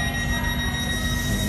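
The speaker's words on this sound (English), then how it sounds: "there's a tube train leaving in the background" A London Underground tube train leaving Farringdon station rumbles steadily with a low, continuous roar and a faint high whine, fairly loud and unbroken throughout.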